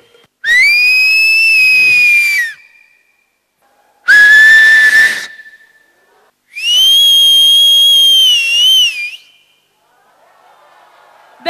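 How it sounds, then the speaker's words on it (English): Three long, loud whistles sustained by people on stage at a family day contest, each held for about two seconds with pauses between, the last the longest. "I want any 3 people who whistle to come up on stage."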